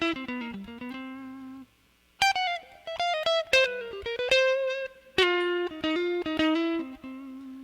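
Distorted electric guitar licks with added preamp distortion, played in the style of a classic rock song: a string of bent and chromatic phrases, loud and close, with short pauses between runs.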